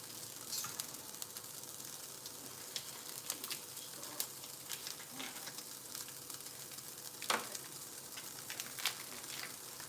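Garlic frying in oil for a noodle soup: a steady, quiet sizzle with occasional pops and the scrape of stirring.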